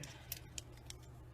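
Scissors cut material for a homemade scent bag, three faint, crisp snips spaced apart over a low steady background hum.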